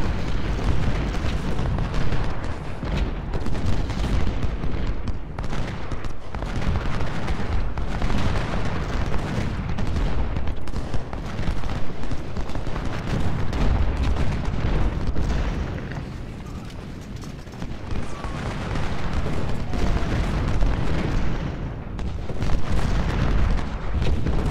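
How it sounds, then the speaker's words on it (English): Civil War cannon and artillery fire rumble almost without pause through a game battle at Malvern Hill, a dense, loud wash of overlapping booms and blasts with a short dip in intensity before the barrage swells again. "let's move Hayes cannons up there"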